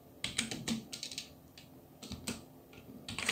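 Quiet, close clicking of a computer keyboard being typed on, with irregular clusters of keystrokes and short pauses between them.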